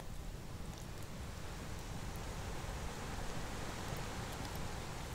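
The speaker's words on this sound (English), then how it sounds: "But we can add a little rain." Rain sound effect added during a spooky-stories stream: a faint, steady, even hiss of falling rain that continues alone without any talking.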